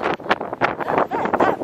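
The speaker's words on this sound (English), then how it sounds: "The wind keeps pushing us in towards the edge." Strong, gusty wind buffets the microphone along an exposed edge during a tour in Ireland, a loud rushing roar that surges and dips in waves, with faint voices underneath.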